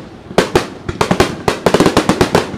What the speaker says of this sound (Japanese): 対岸から3箇所から花火が上がってます